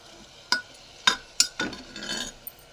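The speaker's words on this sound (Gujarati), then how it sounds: "શાકભાજી નાખ્યા પછી થોડીવાર આપણે તેને હલાવી દઈશું, બધું મિક્સ કરી દઈશું." Vegetables are stirred in a pan, with several sharp metallic scrapes and clinks of a utensil against the pan over a faint sizzle, close by and with no talk.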